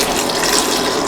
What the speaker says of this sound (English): Now pour in the coconut milk